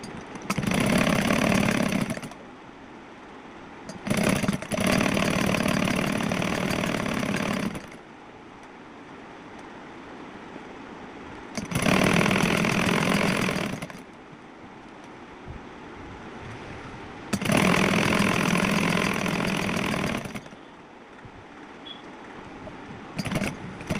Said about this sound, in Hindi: ऐसे ही दूसरी साइड सिलाई।